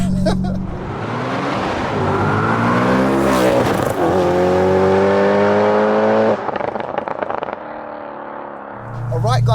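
A supercharged 629 bhp B7 Audi RS4 driving fast, its engine roaring loud and close through rising revs and gear changes with supercharger whine, easing briefly before revving hard again.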